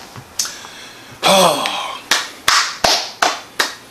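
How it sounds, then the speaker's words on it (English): A lone person claps in sharp, separate bursts, with a breathy vocal sound in between, then several evenly spaced claps close by that ring briefly. "We're gonna clap it up for Quiet Place 2."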